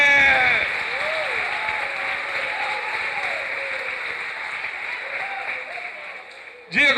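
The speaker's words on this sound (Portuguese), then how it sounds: "Aplauda Jesus de Nazaré." A church congregation at a Sunday worship service applauds, a steady wash of clapping that lasts several seconds, mixed with voices and cheering, before a sudden loud noise at the end.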